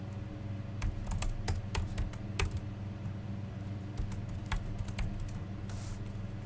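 Typing on a computer keyboard, a run of light irregular key taps close by over a steady low hum, with no talk.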